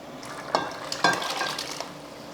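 A ladle stirs cooked dal for mutton dalcha, giving two distinct scraping knocks against the pot over a soft bubbling sizzle, close and quiet with no voices.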